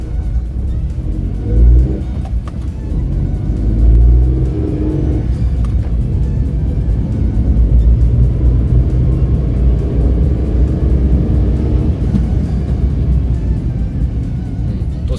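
A Suzuki Wagon R with 160,000 km, just repaired with a new drive shaft boot, drives at night on a test run, giving a steady loud engine and road rumble inside the cabin with brief surges of acceleration.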